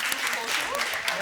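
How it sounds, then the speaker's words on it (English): Audience applause at a youth panel on transboundary water management: a short burst of continuous clapping with a voice speaking over it. "I think we can give a round of applause once again"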